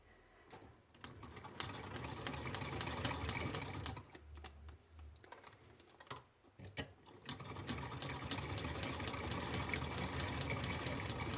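Sewing machine stitching over transferred design lines: a continuous close mechanical whir with rapid needle clatter, pausing briefly mid-way before running steadily again.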